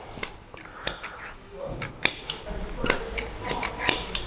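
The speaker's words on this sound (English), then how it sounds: "I'm bringing this all the way back and starting to cut it past the ear." Scissors snip hair past the ear during a medium-length 90s-style layered haircut, a run of crisp, close metallic cuts in an uneven rhythm with no talking.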